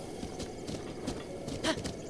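A horse in the video game The Legend of Zelda: Breath of the Wild trots near Hateno Fort, with a quick, even clip-clop of hooves under a low ambient bed and no voices.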